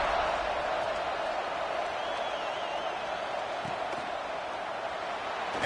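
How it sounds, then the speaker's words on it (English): Football stadium crowd cheering at a college game before a kickoff, a broad steady roar of many voices at moderate level, continuous throughout with an announcer's voice faintly mixed in. "this crowd now ready to get behind them"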